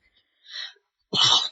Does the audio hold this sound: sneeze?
yes